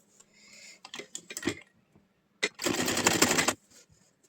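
An electric sewing machine stitching a blouse runs in one steady, loud, close burst of about a second, preceded by scattered clicks and fabric handling.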